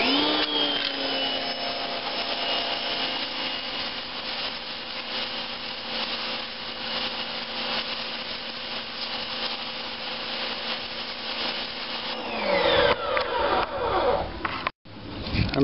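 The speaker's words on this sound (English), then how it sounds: "I'm just using some sandpaper to get that down to" Sandpaper rubbed by hand over a corroded metal sign stake gives a continuous raspy scraping with steady back-and-forth strokes, close and fairly loud, ending with a few rougher scrapes.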